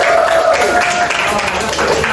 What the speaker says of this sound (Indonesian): Beri tepuk tangan untuk kalian dulu.